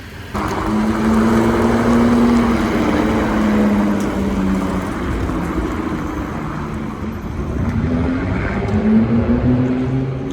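A Mercedes-AMG GT 63S drives past on a Paris street, its engine a steady, fairly loud drone with a low rumble and gusty background noise throughout.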